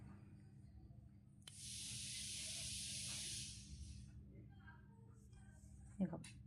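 A sesame and ginger mixture simmers and reduces on a low flame in a pan, a soft steady sizzling hiss that swells for a couple of seconds and then fades, heard faintly with low background hum.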